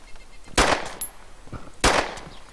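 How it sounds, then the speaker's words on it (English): Two loud, close pistol shots from a Makarov in DayZ, spaced about a second apart, each a sharp crack with a short tail, with faint handling clicks between them. "I'm gonna do a little test fire here"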